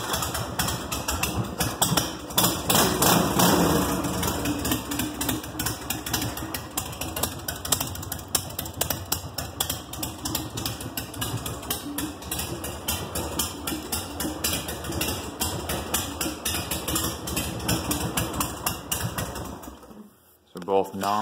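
A cold engine, started without choke, runs at idle with a fast, steady mechanical clatter for about twenty seconds before cutting out, with people talking over it.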